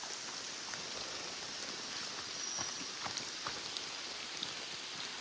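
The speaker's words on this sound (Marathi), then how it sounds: "पाऊस पडणं स्वाभाविक आहे." Steady monsoon rain falls on a forest along the Tamhini Ghat road, a dense even hiss of drops with scattered louder patters close by, continuous throughout with no voices.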